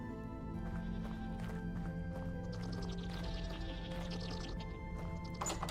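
Goats bleating in the Vintage Story survival game, several short wavering calls repeating over a steady low background hum, with faint hoof-like clatter mixed in.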